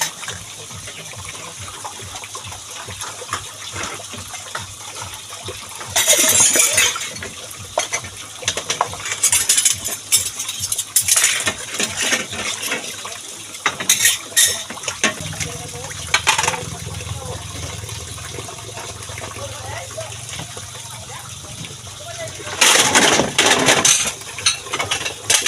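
Water runs and splashes in bursts as items are rinsed at home, with steady gushing stretches between quieter spells and clinking, knocking handling sounds throughout.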